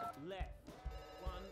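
Telephone ringing in a heist video game, a repeated electronic ring pulsing a few times under people talking.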